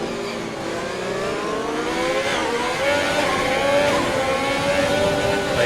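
In a racing video game at Monaco, a race car accelerates with a steady rising engine whine that climbs in pitch through the gears and holds loud and continuous, with no talking.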